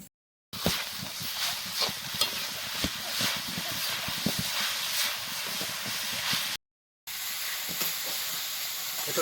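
Grated coconut dry-frying in a wok over a lit stove, for kuli pitha made with wheat flour: a steady, close sizzling hiss dotted with sharp crackles, with two brief cuts to silence and no talk.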